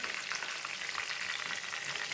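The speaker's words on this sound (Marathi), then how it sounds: "आता परतून घेते. हलक्या हाताने परतून टाका." Prawns sautéing in a pan with a little oil make a soft, continuous sizzle and crackle, fairly quiet and steady, with no voices over it.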